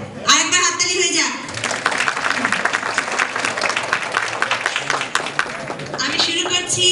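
Audience clapping rings out at a Bangladesh Victory Day stage performance, a dense sustained round of applause from a crowd that swells between brief spoken announcements at the start and end.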